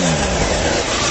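A Honda VFR1200 motorcycle engine revving, a brief, dense burst of engine roar heard up close.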